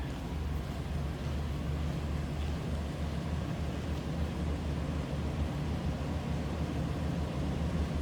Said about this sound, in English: Nice sounding truck.